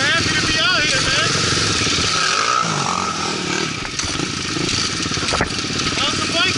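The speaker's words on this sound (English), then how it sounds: "How's the bike running?" A motorcycle engine runs steadily and loudly throughout, with people talking over it nearby.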